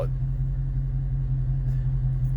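Cars pulling out of parking spots, a steady low engine rumble close by that holds throughout with no voices.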